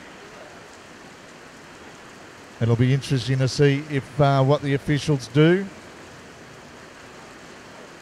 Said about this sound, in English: as this rain now is getting heavier